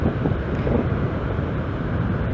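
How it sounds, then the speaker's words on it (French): Steady, heavy wind buffeting the microphone at a beach, a constant low rumble with gusty flutter and no voices. "Je ne vais pas vous cacher qu'il y a énormément de vent."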